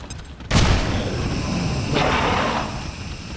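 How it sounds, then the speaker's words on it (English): A smoke bomb thrown in XCOM 2 goes off with a sudden loud burst, followed by a sustained rushing hiss that swells again briefly before settling. "I'm going to put a smoke bomb up front"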